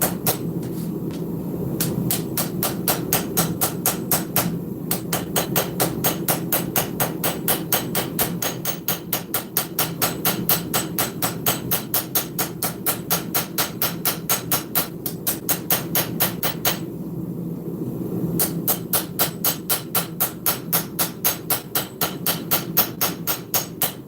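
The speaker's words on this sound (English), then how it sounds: "Now, switch over to my little planishing hammer." A small planishing hammer strikes a knife blade being forged, with fast, steady, evenly spaced blows that run for long stretches and pause briefly twice before resuming, loud and close with no talking.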